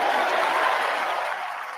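A large crowd at a college football game cheers and applauds in a dense, continuous roar, heard briefly at a distance and fading slightly at the end.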